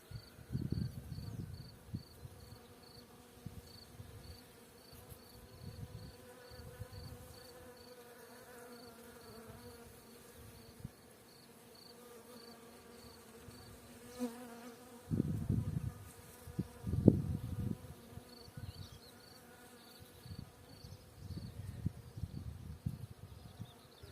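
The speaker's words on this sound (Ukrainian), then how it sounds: "Шумлять. На маках. Бджілки на маках." Faint, steady buzzing of bees on poppy flowers in a poppy field, with a few louder passes as insects fly close by; quiet background hum throughout.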